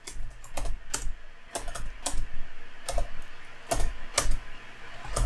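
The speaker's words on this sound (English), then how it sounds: "We type in sudo user mod" Command being typed on a computer keyboard for a Raspberry Pi setup, a close run of crisp key clicks in quick bursts with brief pauses, heard alone.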